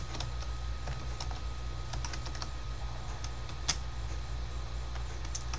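Typing a Linux terminal command on a computer keyboard: soft, steady keystroke clicks over a constant low hum, with one sharper key tap near the end.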